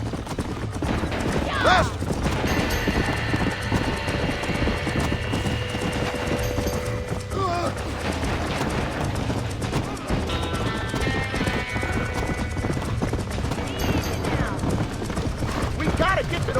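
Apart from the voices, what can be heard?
horse hooves galloping in video game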